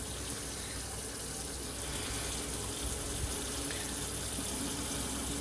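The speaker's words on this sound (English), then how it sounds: "Wash that off, wash my blade off." A knife blade is rinsed under a running kitchen tap, with a steady broadband stream of water splashing continuously into a sink throughout.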